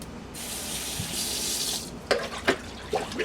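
Water from a tap runs steadily over a solar garden light as it is rinsed, then breaks into a few short splashes and gushes near the end.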